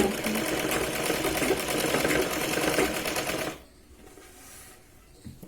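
A sewing machine runs steadily for about three and a half seconds, stitching a seam on a Punjabi top, then stops abruptly, leaving a quiet room with faint handling noise.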